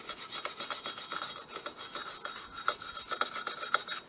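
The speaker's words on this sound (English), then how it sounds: "we're just literally going to go over everything and get this rust off" Rust is scrubbed off the wheel hub of a 2019 Ford Fiesta ST with quick, scratchy back-and-forth strokes, a close, raspy rubbing rhythm that continues steadily and fairly quietly.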